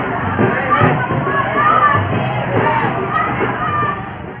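A crowd of villagers moves along in a cow's funeral procession in a village near Aligarh, a steady dense murmur of many voices and shuffling, with a voice talking over the crowd throughout.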